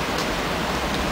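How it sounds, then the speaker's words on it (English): Heavy rain pours down during a storm in Paris, a dense steady hiss with no break, close and fairly loud throughout. "it started pissing down raining. It's storming right now actually"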